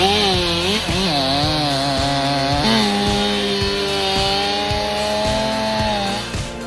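A chainsaw cuts through a large tree trunk in a forest, its engine droning loud and close, bogging down and revving back up as the chain bites into the wood.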